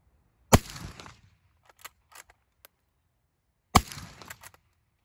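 Two sharp shots from an M1885 Remington-Lee Navy rifle firing 45-70 rounds from a detachable box magazine, about three seconds apart, with faint clicks of the action worked between them.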